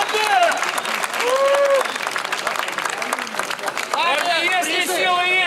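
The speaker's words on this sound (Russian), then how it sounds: "Аплодисменты!" Audience applause and cheering ring out after a street fight bout between a boxer and an MMA fighter, a loud, dense wash of clapping mixed with crowd voices and shouting throughout.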